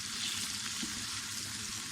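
Potatoes fry in a pan for chana chaat, a steady close hiss of sizzling oil with faint stirring.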